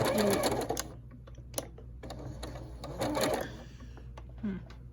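A 1990s Kenmore sewing machine runs a straight stitch in rapid mechanical clattering bursts that start and stop, close by, with a person speaking briefly in between.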